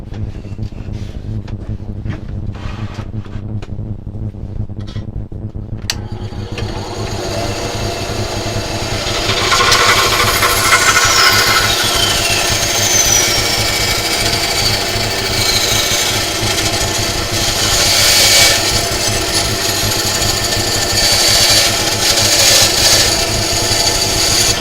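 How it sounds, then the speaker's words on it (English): A power tool bites into knife handle material and grinds steadily. It starts with a few scraping touches, then a loud, continuous, rasping whine carries on for about twenty seconds. "if you don't have a bandsaw, just Dremel this"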